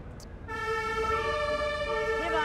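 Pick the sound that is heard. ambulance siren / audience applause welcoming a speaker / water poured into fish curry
ambulance siren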